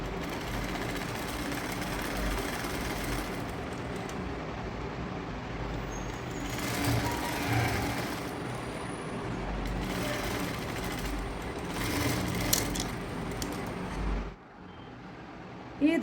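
A sewing machine stitches a churidhar top with a steady, continuous mechanical whir that slightly rises and falls, then cuts off near the end.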